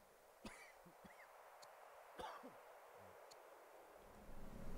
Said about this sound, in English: I had to cough.